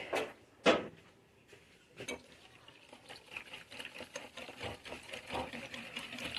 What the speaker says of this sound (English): I'm just going to whisk it together and let it get nice and thick.